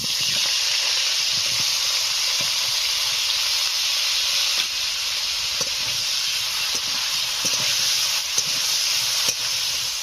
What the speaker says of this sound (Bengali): মাছ ভাজার তেলেই ফুলকপি ভেজে নিচ্ছি।